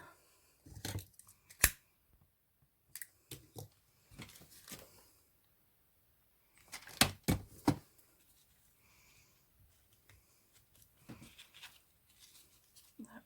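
Scissors snip through satin ribbon while a hair bow is being made, several crisp close cuts in short clusters separated by quiet pauses.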